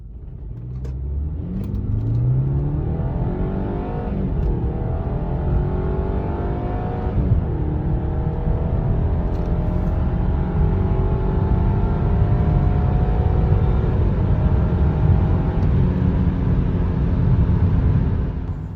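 A BMW M Sport car engine runs loud and close for the whole stretch, a steady deep rumble with rising rev sweeps early on, then a sustained drone with no talking.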